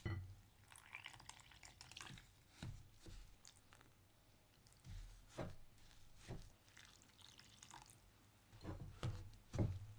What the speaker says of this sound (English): Then gradually add the water while mixing.